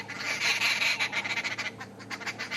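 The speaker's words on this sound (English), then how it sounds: "Arrow-marked babbler." An arrow-marked babbler calls on a safari drive, a harsh, chattering run of squawking notes that starts loud and dense, then breaks into shorter bursts toward the end.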